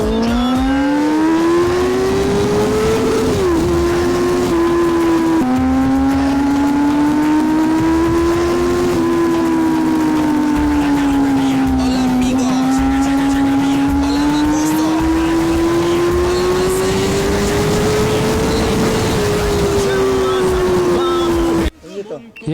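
A Honda CBR 500 SP motorcycle riding fast in third gear, its engine a loud sustained drone whose pitch climbs and dips with throttle over a rush of wind, then cutting off abruptly at the end.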